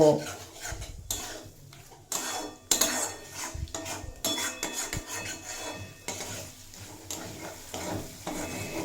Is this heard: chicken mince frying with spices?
yes